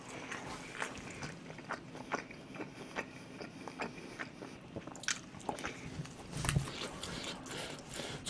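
Crisp, crunchy food is chewed and bitten at close range in a steady series of short crackling crunches during a meal of delivered pork belly, gochujang-grilled pork, fried rice and kimchi stew, with no talk over it.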